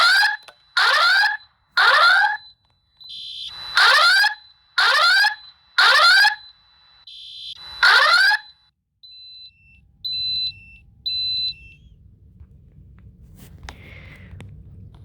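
School fire alarm sounds a repeating pattern of loud rising whoop tones, then a few short high beeps, followed by quiet room noise; no spoken message is heard in this stretch.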